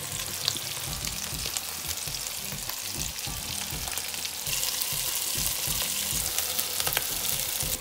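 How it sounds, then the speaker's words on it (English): Red lentil and walnut rissoles coated in crumbs fry in a pan with a continuous close, crackling sizzle that grows slightly louder partway through, with no talking. "You just need to brown them, brown the crumbs, because everything else is cooked."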